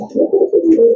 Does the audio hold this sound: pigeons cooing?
yes